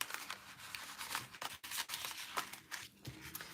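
Scissors cutting blue paper for a craft project, heard as a run of close, crisp snips and rustles in an uneven rhythm.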